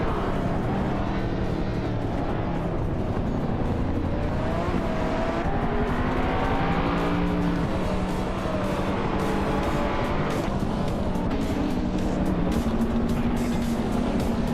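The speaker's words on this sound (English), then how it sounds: "The modern supercars are showing their speed with the top spots, especially on this street circuit" Modern supercars race around a Chicago street circuit in a video game, their engines droning and revving continuously at a steady loud level, with shifting pitch sweeps as cars accelerate and pass, and no talking.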